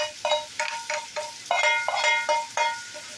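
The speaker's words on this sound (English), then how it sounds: "Only thing I'm doing now is draining my steak." Cooked steak being drained in a kitchen, with a series of light sizzling splashes and clinking taps against a pan, close and fairly quiet.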